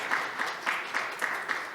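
A forum audience applauds to welcome a speaker at a disability forum closing session, with steady clapping that comes in regular swells over a short stretch, heard alone without talk.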